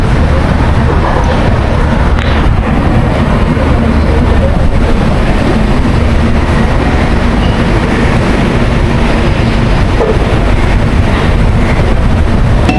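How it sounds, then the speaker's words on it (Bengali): A passenger train pulling out of Kolkata station on the run toward Kamakhya, a loud continuous rumble and clatter of wheels and carriages heard from on board throughout. "কলকাতা স্টেশন থেকে একদম রাইট টাইমে আমাদের ট্রেন ছেড়ে দিয়েছে"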